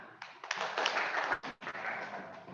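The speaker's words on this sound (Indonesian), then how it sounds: "Tepuk tangan." Hands clapping in a classroom session, a cluster of quick claps with a short pause midway, moderately loud with faint voices around.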